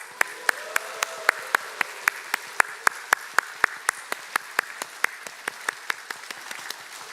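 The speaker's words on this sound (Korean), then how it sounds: "다 같이 한번 반갑게 우리 박수하겠습니다" A church congregation at a Sunday worship service claps together in steady, rhythmic unison, sharp claps repeating about three times a second over a dense wash of applause in a reverberant hall.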